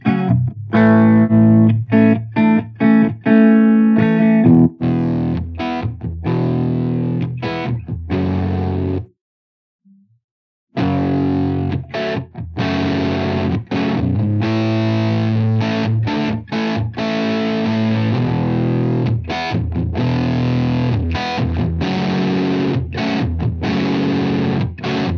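Electric guitar played through an amp simulator plugin with a 4x12 cabinet, heavily distorted chords and riffs with effects, continuous except for a brief pause midway.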